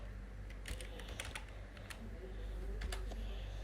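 Keystrokes on a computer keyboard click in irregular bursts over a steady low background hum, moderately close, while HTML code is typed, with no talk.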